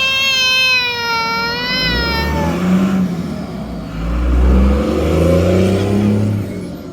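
Cars move through a busy coffee-shop parking lot: a high engine whine rises and fades at first, then low engine rumble swells and passes close by, steady and fairly loud.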